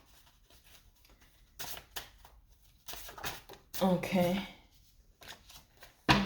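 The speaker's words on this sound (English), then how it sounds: "Shuffle and pull off the top." Card shuffling in a few short riffling bursts, close and crisp, with a person speaking briefly between them.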